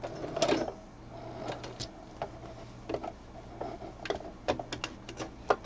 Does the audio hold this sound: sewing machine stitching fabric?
yes